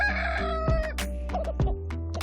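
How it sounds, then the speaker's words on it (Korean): Hens clucking and a rooster crowing nearby over a steady low farmyard hum, calls coming in short irregular bursts, as a hen approaches a rooster. "태양이가 아끼는 암탉들 중 한 마리가 흥부에게 다가간다"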